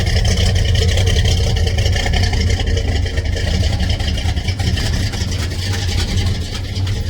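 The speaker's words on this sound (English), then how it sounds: "Oh, I gotta fix that exhaust leak." The engine of a 1974 Plymouth Roadrunner with an exhaust leak runs at a low, rumbling idle, loud and close, holding a steady throbbing drone throughout with no talk.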